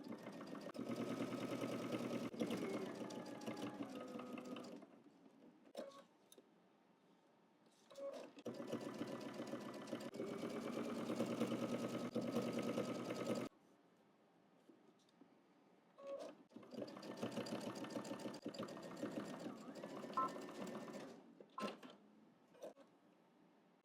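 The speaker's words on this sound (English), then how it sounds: "let's head to the machine and we're going to top stitch the hem" Sewing machine top stitching a garment hem, running in three long bursts of fast, even mechanical whirring, with short pauses and small clicks from handling between runs, close and alone.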